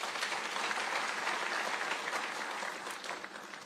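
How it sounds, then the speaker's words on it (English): Graduation audience at Tangaza's inaugural university ceremony clapping for themselves, a broad, steady wash of many hands at moderate distance that holds evenly and eases slightly toward the end. "Let us clap for ourselves"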